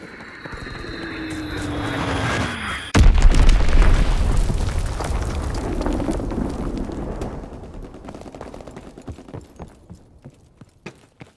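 Bomb explosion from the WWII shooter game Call of Duty: WWII during an Azon bomb mission, a loud, sudden blast with a deep rumbling decay, followed by scattered sharp cracks fading out.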